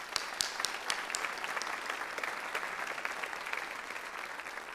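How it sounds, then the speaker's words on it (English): Steady applause from a crowd at a high school recognition night, dense clapping with a few sharper nearby claps, continuing evenly throughout. "let's give one more special round of applause to these extraordinary people"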